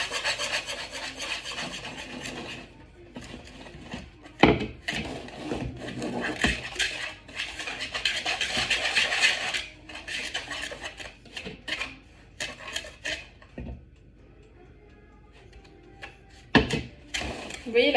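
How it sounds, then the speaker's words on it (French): Melted white chocolate being stirred into raspberry mini muffin batter in a Tupperware bowl, a steady close scraping and rubbing of utensil against the container, continuous with brief pauses and sharper knocks. "je vais l'ajouter délicatement à ma préparation tout en mélangeant un"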